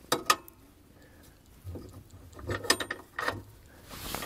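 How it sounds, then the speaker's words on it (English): A two inch ball mount shank slides into an ATV hitch receiver with metallic clicks and scraping rattles, sharp at first and then clustered in a busier burst of clatter near the end, close and moderately loud with no talk. "We're gonna use the two inch and of course just slide it in and it does come with the pin"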